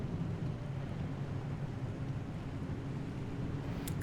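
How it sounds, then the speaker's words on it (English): Storm rolling in within the video game Pacific Drive, a steady low rumble of wind and distant thunder filling the scene without pause, with a couple of sharp crackles near the end. "Oh, the storm is almost upon us."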